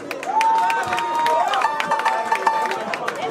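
A crowd at a kompa music event claps and cheers for the band, with scattered sharp claps over a sustained tonal voice or instrument throughout.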